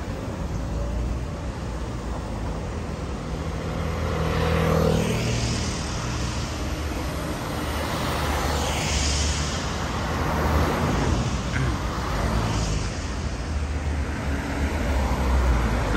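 Rush-hour street traffic in a South Korean city on a summer evening, with long city buses, makes a steady rumbling wash of engines and tyres that swells as vehicles pass nearby.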